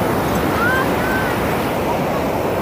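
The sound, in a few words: ocean waves on Puri beach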